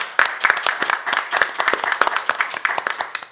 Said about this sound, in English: a round of applause to all of our panelists over the past couple of days